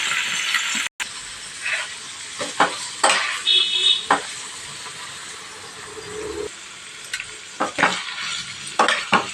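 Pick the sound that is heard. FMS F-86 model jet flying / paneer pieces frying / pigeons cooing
paneer pieces frying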